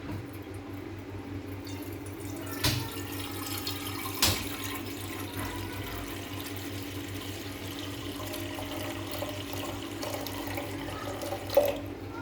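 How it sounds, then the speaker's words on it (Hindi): Water running from a tap into a cooking pot (dechki) in a home kitchen while preparing chicken yakhni pulao, a steady watery flow lasting throughout with a couple of brief clanks, no talking. "उसके अंदर हम डालेंगे पानी।"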